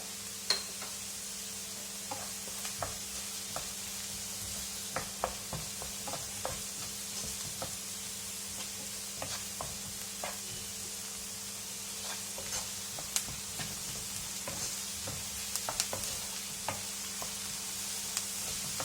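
Onions sauté in coconut oil with salt for a mushroom masala, a soft continuous sizzle punctuated by frequent light ticks and taps of a spoon against the pan, close but fairly quiet.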